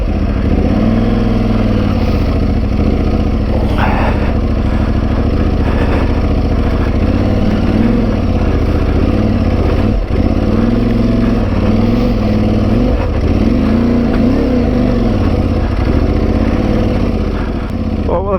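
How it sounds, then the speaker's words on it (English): An Aprilia Tuareg 660 motorcycle engine labours up a steep, slippery trail, its loud mid-pitched drone rising and falling with throttle blips and steady revving for the whole stretch. "let's see what the grip's like on a motorbike"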